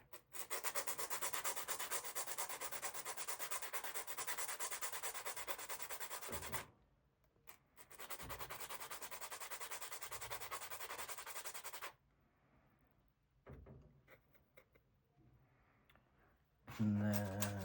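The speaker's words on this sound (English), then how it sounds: "it's just an 800 grit sanding sponge here" Close, continuous sanding strokes with an 800-grit sponge on plastic model kit parts, two long rasping stretches separated by a brief pause, then a few softer rubs and a loud bump at the end.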